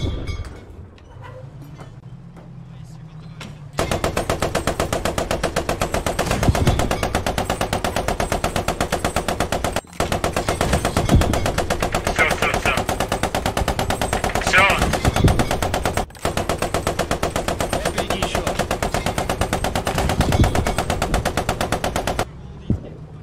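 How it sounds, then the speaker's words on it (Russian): A tank's machine gun in Post Scriptum fires long, loud, rapid bursts that rattle on for many seconds, broken by two brief pauses, with an engine rumble and a short stretch of voice before the firing starts. "Стреляй туда."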